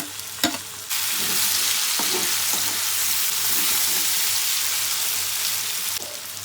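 Ginger and garlic fry with pork in a pan, giving a loud, steady, close sizzle that starts abruptly, with occasional soft stirring scrapes and no talking.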